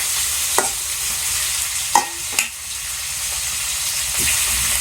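Vegetables sautéing in a pan make a continuous close sizzle, broken by a few sharp clanks and scrapes of a stirring spoon against the pan, with no talking.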